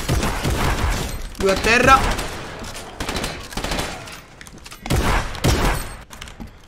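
Rapid bursts of gunfire in the video game Fortnite, with repeated shots and clatter under excited Italian chatter from a player, loud and close.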